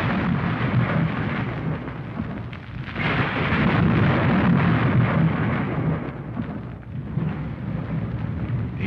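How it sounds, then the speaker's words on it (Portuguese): Deep rolling thunder rumbles on without pause, loud and heavy, swelling and easing in long waves like a storm breaking overhead, with no voices. "e logo se fizeram trovões, e estrondos, e relâmpagos,"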